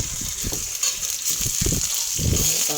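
Lemongrass and aromatics sauté with beef cubes in a pan for a soup, giving a steady bright sizzle broken by a few soft low knocks of stirring.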